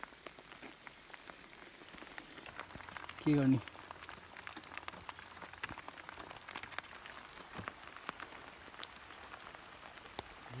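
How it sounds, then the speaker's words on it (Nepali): Rain falling at the Manung Danda hilltop in Tanahun District, a faint, steady patter of drops on surfaces lasting throughout, with a brief spoken phrase near the middle. "यस्तो आज झरी पऱ्यो कि"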